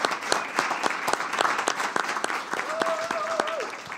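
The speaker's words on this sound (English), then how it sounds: "Let's give our candidates, our council members, a round of applause." Applause from the audience at a King County cultural candidate forum for council members, a lively round of clapping lasting a few seconds, with a voice briefly audible over it.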